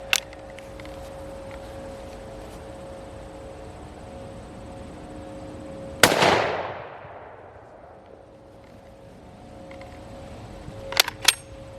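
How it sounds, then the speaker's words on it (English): One sharp, loud gunshot cracks at a gun range and rings out with a decaying echo, followed later by a couple of fainter quick clicks or pops. "I love shooting these guns."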